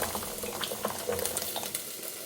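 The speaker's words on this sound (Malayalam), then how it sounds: "ഇത് നന്നായി ചേർത്തെടുക്കുക" Curd being mixed into cooked rice for thair sadam, with soft wet squelching and stirring sounds in an uneven rhythm, close but quiet.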